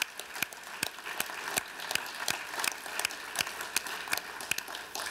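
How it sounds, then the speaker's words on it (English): An audience in a hall at an awards ceremony applauds new hires and volunteers with a steady, moderately loud stretch of clapping, individual claps standing out rhythmically over the continuous patter. "Let's give them a big round of applause"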